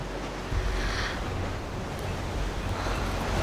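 Ocean surf from a fast-rising tide washes steadily with broad rushing noise and wind buffeting, a continuous wash with no distinct individual break standing out.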